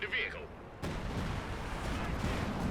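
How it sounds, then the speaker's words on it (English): Artillery fire in the Company of Heroes 2 strategy game, a dense wall of booming, rumbling battle noise that swells sharply and holds steady, with a voice talking underneath. "Well, that's artillery."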